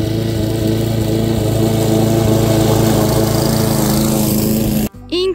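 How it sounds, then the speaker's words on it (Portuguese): A riding lawn mower cutting long grass in a country yard drones loudly and steadily up close, its engine hum continuous until it cuts out abruptly near the end, followed by a brief burst of noise. "a gente tava aqui cortando uma grama, né?"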